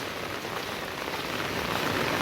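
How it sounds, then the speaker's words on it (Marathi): Heavy monsoon rain pours down steadily near the swollen Ulhas creek, a dense, loud hiss of drops on surfaces that stays constant and even throughout, with no voices. "आज मुसळधार पाऊस आहे"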